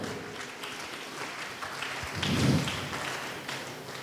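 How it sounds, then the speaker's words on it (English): Scattered applause rises from an audience at a school extempore speech contest finale as judges take their seats, swelling briefly near the middle before fading back to light clapping. "Can we have a round of applause for them?"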